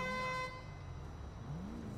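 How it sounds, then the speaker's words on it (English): A car horn in Grand Theft Auto V honks in a sustained blare for about half a second, then cuts off, leaving low engine rumble underneath. "Honk at the guy."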